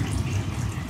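Tap water runs steadily into a home bathroom sink beside a toilet, a continuous close, moderately loud rushing stream with no pauses.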